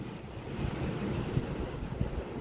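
Wind blows across a beach and buffets the microphone in a continuous low rumble, with waves washing faintly underneath and no voices.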